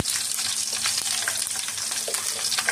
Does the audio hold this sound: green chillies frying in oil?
yes